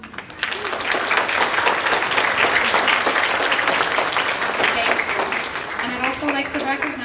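Audience applause at an elementary school spring concert for the piano accompanist, a dense steady clapping that fills the room throughout, with some voices mixed in toward the end.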